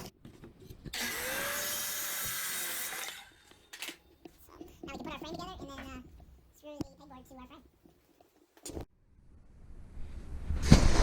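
A saw cuts a wood piece for a pegboard frame in a loud burst of about two seconds. Stretches of speech, quiet gaps and a few knocks and clatters follow.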